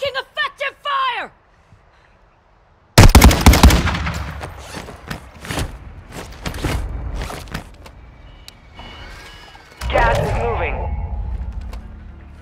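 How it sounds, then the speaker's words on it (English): Gunfire in the video game Warzone 2, sharp shots and rapid bursts cracking among game sounds and radio voice callouts, loud and close. "Taking effective fire!"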